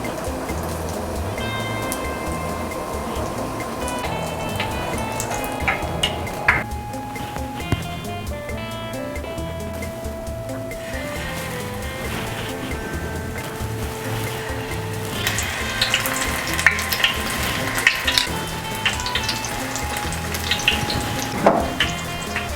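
Battered cod fries in hot oil at around 350 degrees, a dense, continuous sizzle and crackle with scattered pops, steady and close throughout with no talking.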